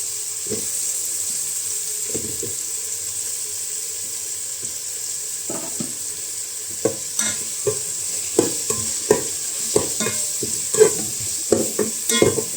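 Onion and tomato sautéing in a pan for Thai-rice mushroom biryani, a constant close sizzle under repeated spatula scrapes and knocks that grow more frequent toward the end.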